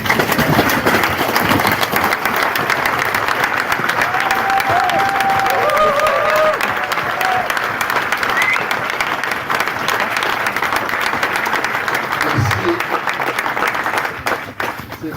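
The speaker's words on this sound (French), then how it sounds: "ça vaut la peine qu'on lui donne une petite main d'applaudissement" Sustained applause from a sizable audience at an Alcoholics Anonymous gathering, dense clapping continuing evenly throughout, with a brief whistle or cheer rising from the crowd midway.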